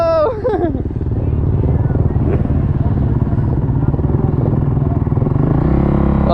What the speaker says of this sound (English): Let's go on the touring bike, brother.